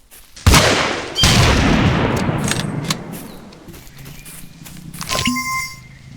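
Gunfire in a squirrel-hunting video game: a few loud, sharp blasts, each trailing off in a rumbling echo, with a quieter stretch before one last shot and a faint ringing tone.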